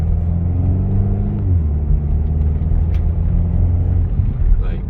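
A BMW X5 M gives a deep, loud engine rumble that swells as it accelerates, heard from inside the cabin with a person talking over it.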